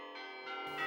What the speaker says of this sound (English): There are 8 bells in the tower.